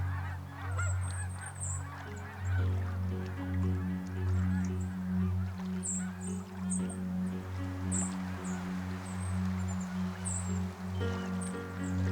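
Geese honk continuously in a noisy flock near a riverbank, overlapping calls with a steady low drone and occasional higher chirps nearby.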